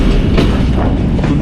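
The 128 Down Mehr Express, a Pakistani passenger train, rolls toward Kundian Junction with a loud, steady rumble and a continuous clatter of wheels on rail.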